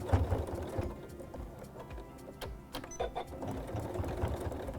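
A sewing machine stitches along the edge of a thick denim pocket using a bi-level foot, giving a close, uneven mechanical whirring with short clacking bursts and brief pauses.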